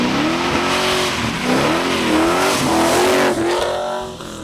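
A 1969 Chevelle SS big-block V8 with stainless X-piped Borla mufflers rumbles loudly nearby, revving up and easing off in repeated swells before settling, with no talking.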